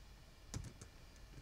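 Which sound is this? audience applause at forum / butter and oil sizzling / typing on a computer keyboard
typing on a computer keyboard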